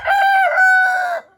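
A backyard rooster lets out a single loud, close crow, one drawn-out cock-a-doodle-doo lasting just over a second, with no voices.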